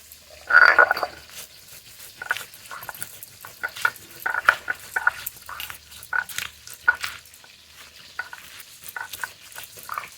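Large tilapia fish frying in hot oil, a sparse crackle and pop of spitting oil that bursts louder early, then keeps ticking irregularly with no talk.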